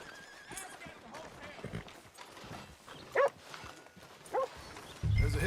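In the Red Dead Redemption 2 video game, a horse gives short whinnies and its hooves clop faintly beneath nearby speech, with a low rumble at the end.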